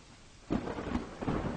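Brief burst of rain and thunder, a low rumble that swells abruptly after a quiet moment and holds at moderate loudness with no voices.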